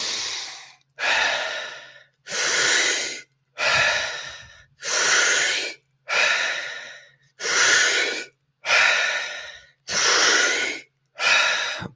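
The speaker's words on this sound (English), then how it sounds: "Breathing deep into our belly and into our chest and let it go" Deep, slow breaths during a guided breathwork exercise, ten long airy inhale-exhale cycles in steady rhythm, close and loud with no talking.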